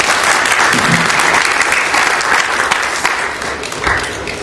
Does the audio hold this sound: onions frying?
no